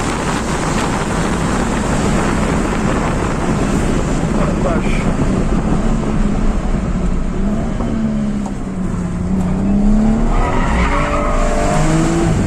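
Continuous tire roar and skid from a 326hp BMW M135i xDrive breaking traction, loud and wind-buffeted from inside, with a rising engine whine toward the end and a voice speaking over it.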